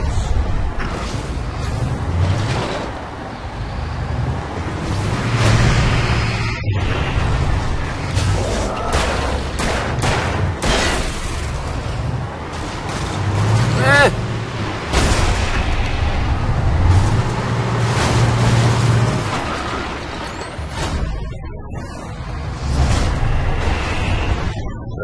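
A possessed bulldozer attacks in Alan Wake, heard as a loud, continuous churn of heavy rumbling, booms and crashing impacts with whooshes, sustained across the whole stretch with brief lulls.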